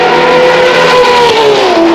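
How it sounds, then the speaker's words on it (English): A Ferrari 599XX track car with a straight-piped exhaust revs hard, a loud, close, continuous engine wail whose pitch sweeps and shifts over two seconds, with no voices. "straight pipe the exhaust with a beautiful system that sounds just like this."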